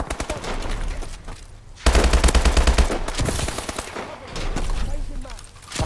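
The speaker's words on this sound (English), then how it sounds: "He's shooting me, he's shooting me, he's shooting me, he's shooting me" Rapid video-game gunfire rattles in dense bursts, loudest in a sustained automatic volley midway, mixed with game effects and a voice talking over it.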